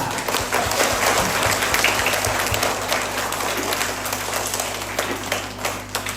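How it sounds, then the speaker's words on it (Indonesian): An audience at a Catholic kindergarten graduation applauds two priests, a dense sustained burst of many hands clapping that carries on throughout without fading. "Kita beri aplaus untuk pastor berdua."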